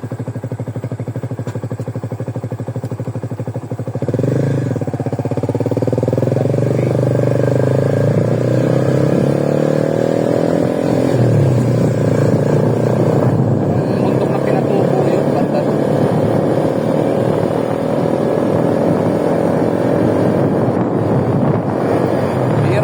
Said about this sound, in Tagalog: Dumadaang sasakyan dito.